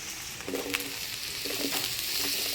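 Potatoes and eggplant frying in a pan with tempering spices, a soft steady sizzle with a few light stirring scrapes and clacks, quiet and close.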